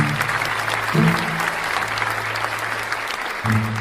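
Wedding guests clap and cheer for the bride and groom, a steady wash of applause from a small crowd with a low hum and brief voices over it.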